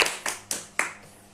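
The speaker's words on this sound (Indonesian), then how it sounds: "Oke, boleh minta tepuk tangan dulu." Four crisp, separate hand claps at a steady pace, fairly close and alone, at a Youth Pledge Day community event.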